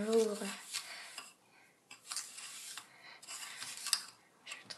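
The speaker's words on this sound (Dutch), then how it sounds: "Dus dan gaan we het nu heen en weer roeren." A homemade snow mixture is stirred back and forth in a container, giving repeated soft scraping and rustling strokes in short bursts, with a brief voice at the start.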